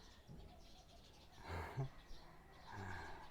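A small bird chirps faintly in the background, with a few brief, quiet calls over a few seconds.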